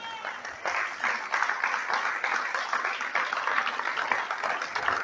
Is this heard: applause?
yes